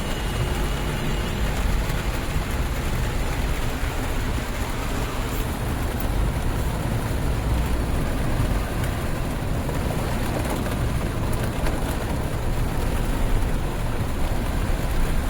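A car drives slowly through a flooded road in Varthur, with a constant broad wash of water and engine rumble surging around the vehicle, steady and close for the whole stretch.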